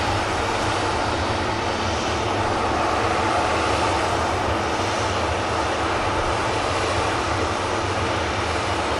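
Ryanair Boeing 737 Next Generation airliner taking off at an air show, a loud steady jet engine roar with broad rumble and hiss holding throughout, no voices.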